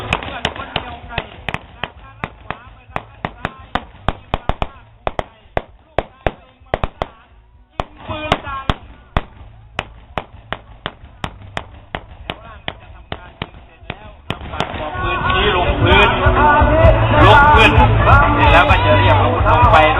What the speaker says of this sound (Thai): เสียงปืนจะดังขึ้น